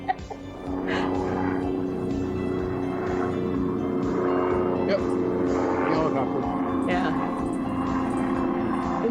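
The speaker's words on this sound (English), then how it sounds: "And then the helicopter arrived." A helicopter's rotor thuds and engine drone fill the background steadily over a farm and winery while people talk over it.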